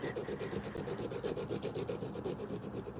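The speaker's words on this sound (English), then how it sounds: "now we're just sanding it down" Steady back-and-forth rasping of sandpaper on wood, quick regular strokes repeating close by without pause.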